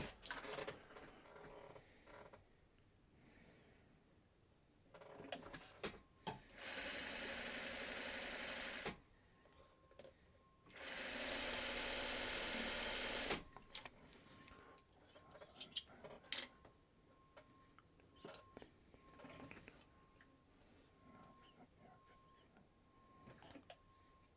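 A sewing machine stitches quilt flying geese units in two loud sustained bursts of motor whir, each several seconds long, with quieter handling clicks and thumps between and after.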